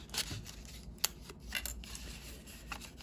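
Scissors fussy cut paper for a craft box in a few short, quiet snips and rustles, close to the ear, with a faint steady hum underneath.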